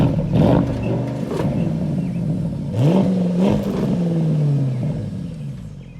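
A 2018 Porsche Panamera Turbo Sport Turismo engine cranks and fires up close by, with a quick starter whir, a revving surge, then a settling idle that rises again into a smooth drone.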